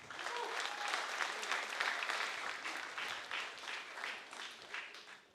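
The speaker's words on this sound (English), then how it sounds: "can we have a big round of applause to get the first comic on stage, Ahmed Shariff." An audience at a comedy show claps steadily as a comedian comes on stage, a dense wash of applause that holds for several seconds and slowly tapers, with some faint voices mixed in.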